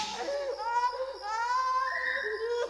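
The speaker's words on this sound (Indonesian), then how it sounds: "terdengar tangis lirih" A woman's faint, plaintive crying in an Indonesian radio horror drama: a thin, wavering wail that rises and falls in drawn-out sobbing tones for nearly three seconds, close and intimate over a quiet background.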